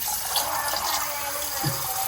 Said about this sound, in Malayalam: വെള്ളമായിട്ട് പാരാം.